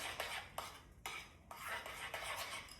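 A spoon scrapes and clinks against a bowl while food is mixed, in quiet irregular strokes about every half second, close by with no voices.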